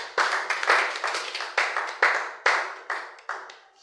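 A church congregation bursts into rhythmic clapping to acclaim Jesus during a sermon, with about nine sharp, loud collective claps in steady succession and no voices over them.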